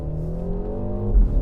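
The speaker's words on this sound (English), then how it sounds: "artificial engine race car noises through the audio" Synthetic race-car engine sound played through the audio system of a 2025 JCW MINI Countryman, a steady low harmonic drone that swells near the end with a brief pop, close and loud, with no talking.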